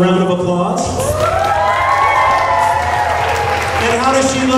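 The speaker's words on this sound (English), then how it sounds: "How about a round of applause?" Party guests at a Bat Mitzvah celebration at the Paseo Club in Santa Clarita clap and cheer, a loud sustained crowd noise with applause mixed with whoops and shouting voices throughout.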